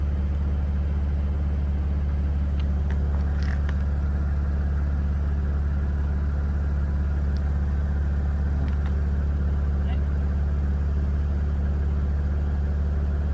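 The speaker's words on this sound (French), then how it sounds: "c'est le son que vous allez entendre sur la voiture" A car engine idles steadily with a constant low rumble, close and continuous, with a few faint clicks above it and no voices.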